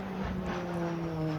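A fixed-wing propeller airplane drones steadily throughout, a continuous engine hum with a steady tonal buzz and no voices.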